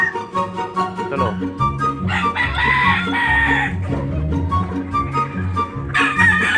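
Chickens on a farm cluck and squawk in a busy, near chorus, with a rooster's crow rising in the middle and another call at the end, loud and continuous.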